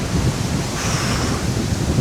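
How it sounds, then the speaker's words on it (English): Strong outdoor wind buffets the microphone with a loud, continuous low roar and rumbling gusts that do not let up, with no talking. "My God, this wind."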